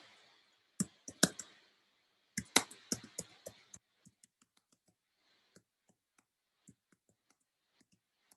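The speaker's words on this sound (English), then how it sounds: "if I go and just click and type" Sharp, quiet clicks of a computer mouse and keyboard keys, a quick cluster of taps followed by sparser, fainter clicks trailing off, with no voices.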